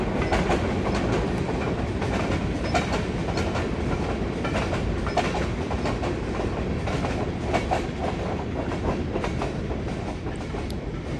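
A toy Thomas train rumbles along a wooden track with rhythmic clicking over the track joints, loud and continuous throughout.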